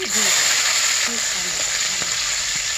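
Bay leaf and sliced onions dropped into hot white oil, a loud continuous sizzle and hiss with a faint steady whine above it and a few soft clinks from the pan.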